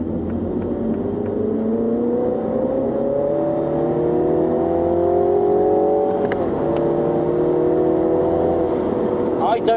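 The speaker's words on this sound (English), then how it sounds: "that is plumbing in synthetic car sounds" John Cooper Works Mini in sport mode playing a synthetic engine sound, a steady rising and falling drone with a brief dip midway, under continuous talk.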